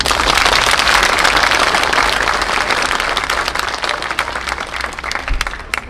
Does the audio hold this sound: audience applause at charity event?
yes